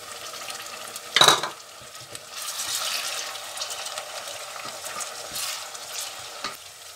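Onion and tomato fry in a pan for green mung daal curry, starting with a sharp splash and hiss as the food hits the hot oil, then a soft, steady sizzle with light stirring clicks, no voices.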